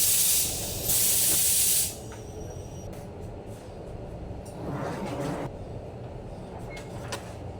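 A sublimation heat press working on the sleeve of a polo shirt gives a loud burst of hissing steam and air at the start, then settles into a lower mechanical hum with a softer hiss midway.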